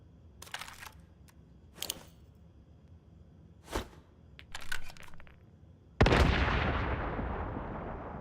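Grenade blasts in the video game Once Human: several sharp bursts early on, then one loud, booming detonation with a long decaying rumble, no talking.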